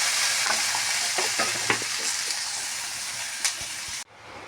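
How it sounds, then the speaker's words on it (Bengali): Fish roe fries in a hot pan as water is added for a fish-egg bora dish, giving a steady loud sizzle with stirring scrapes, then a sharp drop toward quiet near the end. "আমি এবার একটু জল দিয়ে দিচ্ছি।"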